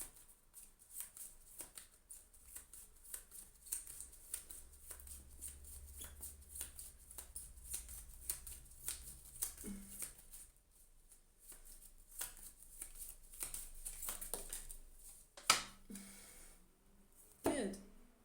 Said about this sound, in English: Okay, so I'm just gonna shuffle